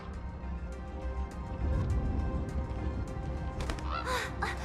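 A bird caws in Honkai: Star Rail over a steady low ambient bed, a few harsh calls rising near the end, fairly faint and with no talk.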